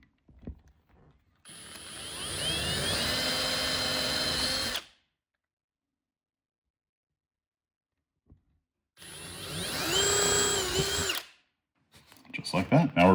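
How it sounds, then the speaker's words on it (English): Two loud, steady bursts of a power drill boring a hole for cabinet hardware in a custom wooden pantry cabinet, separated by silence, with clattering handling noises at the end and no speech. "Now we'll drill a hole with the appropriate size drill bit."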